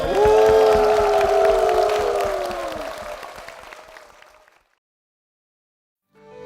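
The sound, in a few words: church congregation applause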